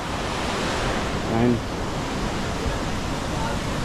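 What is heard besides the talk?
water flowing at Amboli waterfalls and dam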